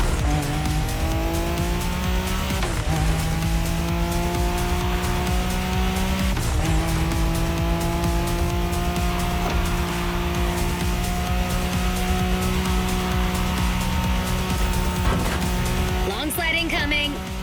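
Car drifting in The Crew Motorfest racing game: loud, continuous tire squeal over a high revving engine, with brief gear shifts and a sharp skid burst near the end.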